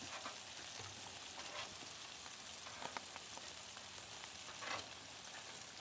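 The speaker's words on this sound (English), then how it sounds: "you'll see once they sear on the back side, it'll give it a nice color" Scallops searing on a griddle make a soft, continuous crackling sizzle throughout, faint and even, with a few brief pops.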